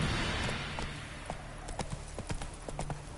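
Horse hooves clip-clopping in The Witcher 3, a steady close trotting rhythm of sharp knocks rising out of a noisy background, with no talk over it.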